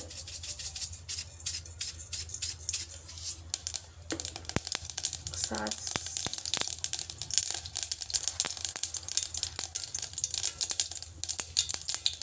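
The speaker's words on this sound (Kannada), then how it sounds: "ಸಾಸಿವೆ ಚಿಟಪಟ ಅಂದಮೇಲೆ" Mustard seeds splutter in hot oil in a kadai for tempering, giving a continuous stream of sharp, dense, crackling pops at moderate volume.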